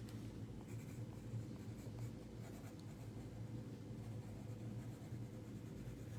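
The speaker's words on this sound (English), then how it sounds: "hang on, I gotta write something down here" Pen or pencil scratching across paper while something is jotted down by hand, a steady soft scribbling held under a constant low hum throughout.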